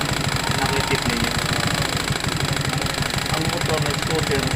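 A motor scooter engine runs steadily at close range, a rough mid-pitched putter with a knocking pulse throughout, while a voice talks over it.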